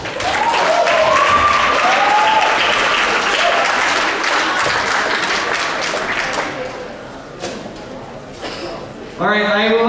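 An audience at a Harwich High School state senate debate applauds a Democratic candidate; a thick burst of clapping, with a voice over its start, gradually dies away into scattered claps before a speaker resumes talking.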